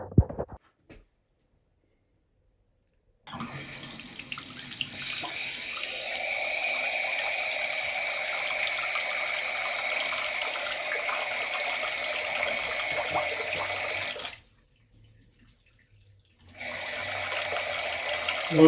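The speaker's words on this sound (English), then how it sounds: "I'm going to turn on the water and we'll test it out." A Kohler Trocadero pedestal lavatory faucet runs with a steady, even rush of water into the basin, briefly stops, then flows again, preceded by a few small clicks of handling.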